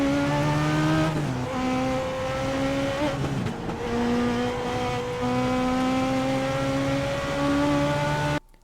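A Legends race car accelerates hard out of the pits at USA International Speedway, its engine loud and close, climbing through several gear changes with a quick dip between shifts before cutting off at the end.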